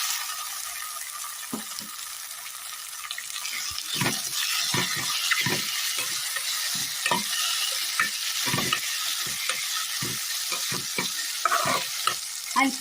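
Tender coconut pieces are stirred into softened onions in a hot pan, a soft, steady sizzle punctuated by repeated scraping and clacking strokes of a spoon, close and clear, with no speech.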